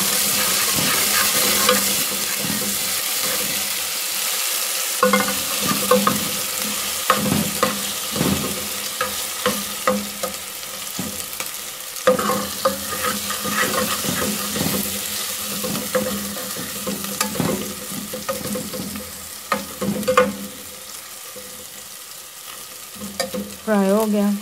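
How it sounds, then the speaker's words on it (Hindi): Chopped onion with garlic-ginger paste sizzling in a hot pan while a spoon stirs and scrapes it, steady frying hiss with intermittent clinks and scraping, close up, no talking. "प्याज को फ्राई कर लिया"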